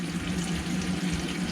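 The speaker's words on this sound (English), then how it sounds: "So just empty the taps" Water runs steadily from touring caravan taps opened in the kitchen and bathroom to drain the system, a continuous close hissing gush with no talk.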